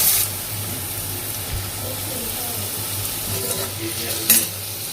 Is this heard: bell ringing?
no